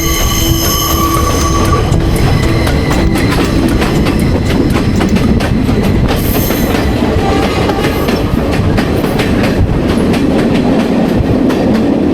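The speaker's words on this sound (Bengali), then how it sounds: "এখানে অনেক সময় ধরে ট্রেন আস্তে আস্তে যাচ্ছে" A Sri Lankan train creeps slowly along mountain rails with a loud, continuous rumble, rhythmic clickety-clack from the wheels and occasional high squeals, heard close from on board with no talk.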